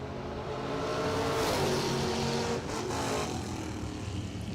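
Door car launching at a bracket drag race, a loud, close engine roar building hard from the start and easing off as the car pulls away down the track.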